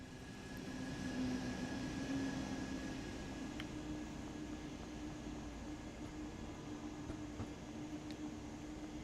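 Train passing on the Stuttgart–Heilbronn line in Train Sim World 6, a faint, steady low rumble with a sustained tonal hum and occasional clicks, distant and even throughout.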